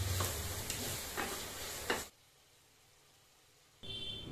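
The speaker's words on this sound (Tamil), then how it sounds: "ஸோ தக்காளி ஆட் பண்ணிவிட்டு மறுபடியும் இதை போட்டு நல்லா நம்ம வதக்கிட்டே இருக்கோம்." Tomatoes are stirred and sautéed in a pan for a Tamil-style biryani, with a soft sizzle and scraping for about two seconds, then near quiet before the sizzle returns.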